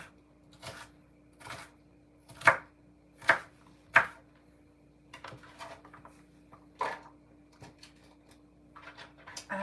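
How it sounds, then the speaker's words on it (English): Knife chopping vegetables into tiny pieces on a cutting board for an omelette, a run of sharp separate knocks, a few louder strikes, then quicker lighter taps, with a low steady hum behind. "I'm going to cut these into little tiny pieces too."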